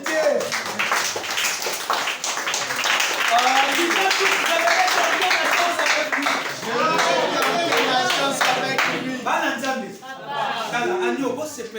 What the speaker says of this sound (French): Acclamez très fort.